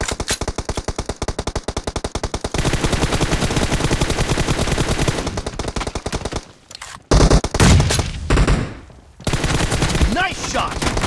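Rapid automatic gunfire from a team deathmatch video game, fast bursts of machine-gun fire that break off partway, then return as loud, dense volleys with brief pauses between them.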